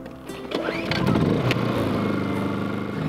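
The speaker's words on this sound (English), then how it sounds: "we're gonna use a Honda 2000 to test the charger" A Honda 2000 portable generator runs aboard a boat at anchor off Moorea, its engine note climbing to a loud, steady drone that holds close and constant, with no talk.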